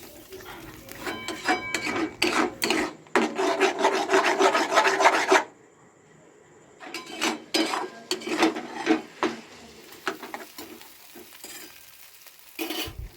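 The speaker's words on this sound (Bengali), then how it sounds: "ঝুড়ো ঝুড়ো করে ভেজে নেব আর কি।" Five eggs frying and being scrambled in a pan give off a close, steady scraping and sizzling with repeated stirring strokes, broken by a short lull before the busy scraping resumes.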